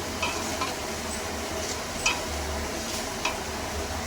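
Moong dal cooked with bottle gourd being stirred in a pan, a steady soft scraping and sizzle with a few light spoon clicks against the pan, close and alone without talk.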